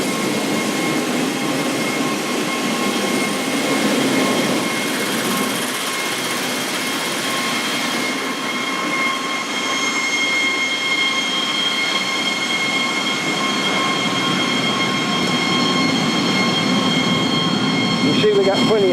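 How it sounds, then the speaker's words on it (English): Electric motor spinning an auger, a steady mechanical drone with a constant tonal whine and rumbling grind holding for the whole stretch, loud and close with no break. "This is what we're driving with that motor. It's spinning an auger."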